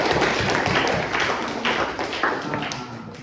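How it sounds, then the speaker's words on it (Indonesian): Applause from a class of students in an Indonesian school lesson, a dense, steady patter of many hands clapping together for about three seconds, fairly close and even in loudness. "Ya, tepuk tangan dulu semuanya"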